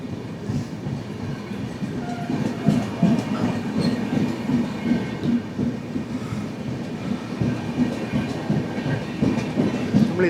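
The Hubballi-Hyderabad Express runs through Karnataka, heard from on board as a loud, continuous rumble with rhythmic clickety-clack from the wheels over rail joints and occasional metallic rattles from the carriage.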